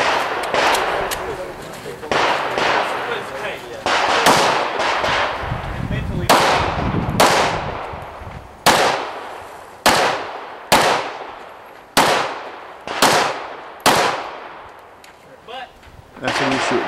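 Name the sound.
pistol shots fired at an IDPA shooting stage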